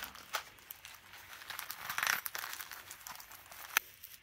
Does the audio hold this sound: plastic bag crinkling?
yes